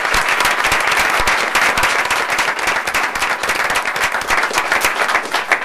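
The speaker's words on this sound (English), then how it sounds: "How about a round of applause for the great video?" An audience at a school board meeting bursts into loud, dense applause, many hands clapping continuously and close for several seconds.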